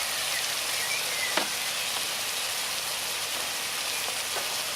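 Chicken korma with onion, ginger and freshly added coconut fries in a restored dutch oven over a Weber kettle, a soft steady sizzle with a few faint stirring clicks and taps, no one speaking.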